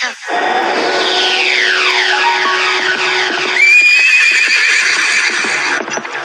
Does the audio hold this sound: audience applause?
no